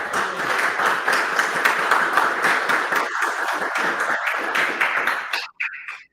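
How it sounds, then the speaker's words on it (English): An audience at the close of a live workshop stream gives a round of applause, dense steady clapping for about five seconds before it fades out quickly. "Can we get a round of applause,"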